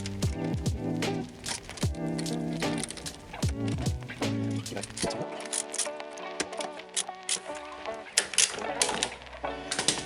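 A new 3-pin plug is screwed onto wiring during a Kawasaki GPZ600R Ninja ZX600A rebuild, making rapid, close ratcheting clicks and ticks of plastic threads, with a voice heard at times.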